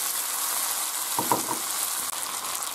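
Sliced potatoes, onion and chard frying in a pan in a Spanish home kitchen, a steady close sizzle with a short burst of stirring clatter partway through.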